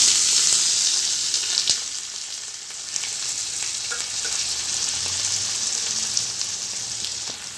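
Sliced onion sizzles in hot oil in a pan for a chicken and banana flower curry, a steady close crackle with a bright hiss at the start, then a softer even frying noise, with no voices.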